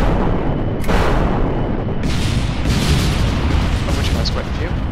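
Missiles launch from a jet in Kerbal Space Program, heard as a run of loud, booming blasts with sharp onsets that repeat over a dense, continuous roar.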